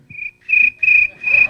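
A man mimics a cricket, whistling a high, steady chirp in three sustained bursts, close and clear with no talking.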